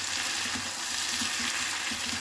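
Flat beans (sem) tumble into partly cooked potatoes frying in a pan, giving a steady, loud, close sizzle that continues without pause.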